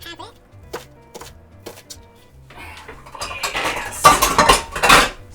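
A knife dicing vegetables for quesadillas on a cutting board, a string of separate knocks that speeds up into rapid, loud chopping bursts, with no talk over it.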